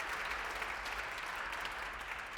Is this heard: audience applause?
yes